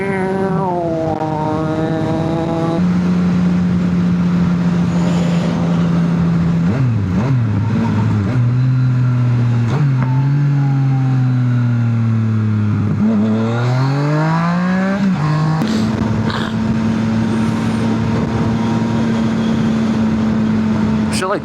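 Cars accelerating hard through a street race, including a twin-turbo Kia Stinger, a Toyota Tacoma and a Honda Civic, near and loud. Engine notes rise in repeated sweeps and hold steady at high revs, with a voice talking over them.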